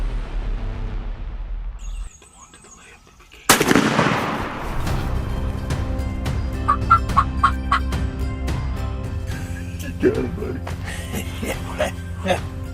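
Several wild turkeys gobble loudly and repeatedly at close range as they walk toward hunting decoys, with a sharp blast-like burst early on and low voices talking quietly underneath.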